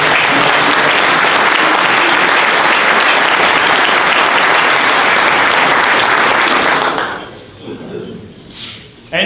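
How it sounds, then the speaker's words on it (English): An audience at a speaking event breaks into loud, dense applause that holds steady for about seven seconds before tapering off into a few scattered claps. "So let's give a round of applause."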